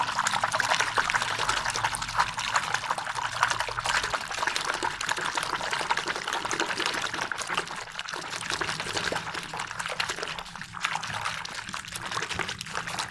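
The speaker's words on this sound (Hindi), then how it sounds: "अब इसको हम पानी में डालते हैं आपके सामने दोस्तों" Steady pouring and splashing of a surf detergent mixture into about two kilograms of water, a continuous close liquid rush and trickle with no talk over it.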